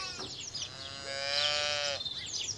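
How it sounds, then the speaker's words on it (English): A lamb gives a single drawn-out, wavering bleat, loud and close, with faint background noise before and after. "There were lambs on the road, skipping about."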